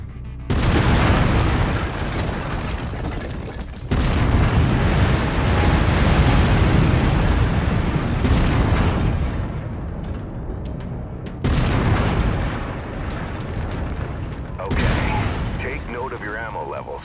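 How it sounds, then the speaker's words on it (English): Heavy autocannon fire and booming explosions from the mech combat game MechWarrior 5, loud and sustained in long rumbling bursts separated by brief gaps, with deep low-end impacts. "I've mapped the autocannon to Weapon Group 1. You're free to fire whenever you're ready."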